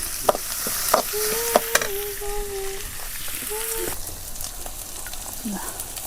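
Vegetable upperi with grated coconut being stirred in a pan, giving a steady scraping and soft sizzle, with a few sharper knocks of the spoon and brief voices over it.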